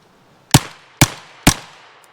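Three loud, sharp gunshots from an Armi Jager AP74 .32 (7.65mm) rifle firing PPU 71 grain rounds, evenly spaced about half a second apart, each with a short decaying echo.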